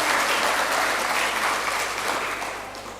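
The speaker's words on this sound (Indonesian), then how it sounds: "Tepuk tangan untuk PKK." An audience at a PKK 50th-anniversary ceremony in Jombang, Indonesia, bursts into dense, loud applause that holds steady before easing off slightly at the end.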